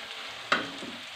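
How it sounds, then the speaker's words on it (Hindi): Chopped onions hit a hot pan and sizzle, with one sharp burst of frying and stirring followed by a steady soft hiss. "हमने डाल देने हैं यहाँ पर जो मैंने प्याज चॉप करके रखे थे, इसको मैं लाइट सा ब्राउन करूंगी"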